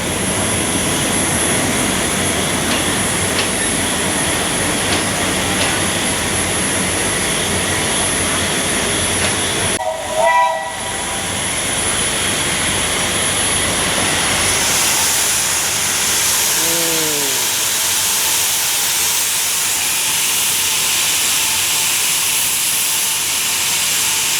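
An old Thai train arrives, its engine droning loudly under a continuous broad steam hiss, with a brief pause in the noise partway through and a whining, falling tone as the roar settles later on.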